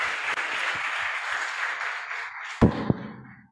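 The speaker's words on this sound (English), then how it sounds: "So a round of applause as we welcome the professor to say something." Audience clapping to welcome a professor at an anniversary event for a human rights centre, a steady spread of applause that fades out near the end, broken by a couple of loud close knocks.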